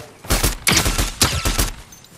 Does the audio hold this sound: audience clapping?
no